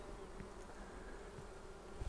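Honeybees in a drone-laying colony buzz loudly and continuously at close range, a dense steady hum with a few brief knocks.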